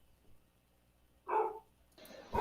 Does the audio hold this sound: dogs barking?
yes